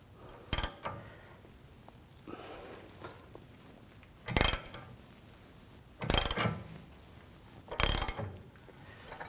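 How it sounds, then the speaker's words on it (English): A bushing puller being tightened on a rear control arm of a 2007–2013 BMW 328i, four sharp metallic ratchet bursts spaced a couple of seconds apart, close and loud against quiet workshop noise. "As you can see, as I'm tightening this down, the bushing's getting pulled through."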